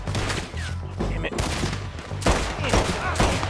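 Rapid volleys of gunfire rattle out in Red Dead Redemption 2, loud and close, with a fast-firing gun going off in bursts amid layered shots and a brief voice underneath.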